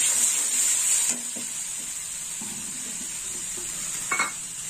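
Tomato and red chilli powder stir-fried in a pan, with a steady close sizzle and occasional scrape of a spoon against the pan, no talking.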